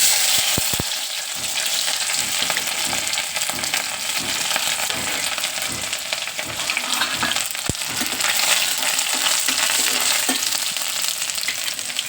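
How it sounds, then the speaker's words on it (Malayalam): Crushed ginger and garlic fry loudly in hot oil in a pan, a dense, unbroken sizzle close up, with a few faint clicks early on and no talking. "കുറച്ച് എണ്ണ ഒഴിക്കുക അതിലേക്ക് നമുക്ക് കുറച്ച് ഇഞ്ചിയും വെളുത്തുള്ളി ഇട്ട് കൊടുക്കുക"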